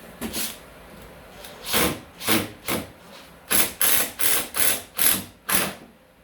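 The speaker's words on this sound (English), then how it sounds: "use my impact driver to secure the screws" An impact driver drives screws into a timber door lining, giving a string of short rattling bursts that start spaced apart and then come in quicker succession, close and fairly loud with no talking.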